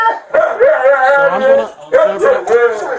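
Several dogs inside a house bark, whine and howl over each other in loud, overlapping bursts, close by and with no pause.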